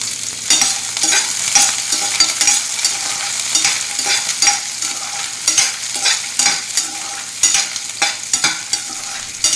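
Small onions sauté in a little oil for a Tirunelveli-style sodhi kuzhambu, a loud, close sizzle punctuated by rhythmic, repeated stirring scrapes throughout.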